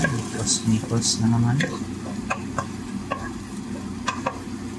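Red onion sautéing in a pan during an outdoor cooking trip, giving a steady close sizzle broken by stirring clicks and scrapes, with a voice talking briefly near the start.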